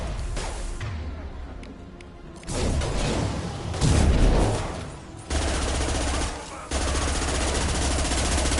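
Sustained bursts of video game gunfire in Mass Effect 2, loud and dense with a few heavy booms, running under intermittent voices of squad members talking during combat.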